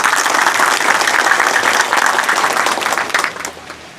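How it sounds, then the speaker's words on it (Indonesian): Dense, loud applause from a crowd of Indonesian army soldiers of Unit TP 897 Singgalang at a gathering, steady for about three seconds, then thinning out toward the end. "tepuk tangan"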